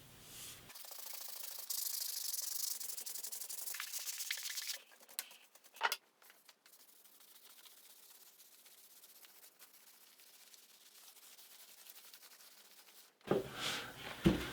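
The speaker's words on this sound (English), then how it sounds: "now I'm gonna sand down the rough edges and smooth all this out" Rough edges of a carved epoxy project are sanded by hand in a steady, close rubbing rasp that stops briefly near the middle and returns louder at the end.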